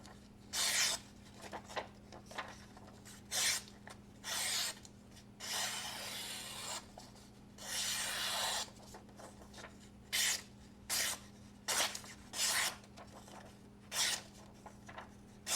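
A blade slices through paper in a series of close, quiet rasping strokes, some short and some drawn out, separated by brief pauses.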